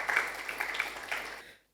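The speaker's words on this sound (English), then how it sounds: "A round of applause for him once again" An audience at a tech and creative industry conference applauds, a brief burst of many hands clapping that fades quickly into silence.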